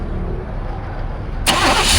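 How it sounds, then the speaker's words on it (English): Chevy OBS pickup truck with a fault that keeps it from staying running: a low rumbling crank leads into a sudden loud catch and roar of the engine firing up, close by with no voices. "It does try to start, but it won't stay running. Fires up, quits."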